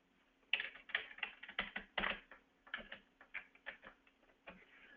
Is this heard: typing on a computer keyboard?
yes